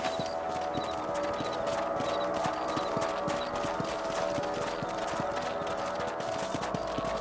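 Horses trot in the Western video game Red Dead Redemption, a steady, close rhythm of hoof clip-clops over a constant background hum, with no talking.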